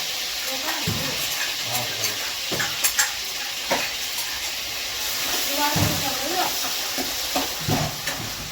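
Tempering for dhaba-style dal fry sizzles and hisses steadily, with scraping stirs and clinks of a spoon in the pan, while a person talks over it.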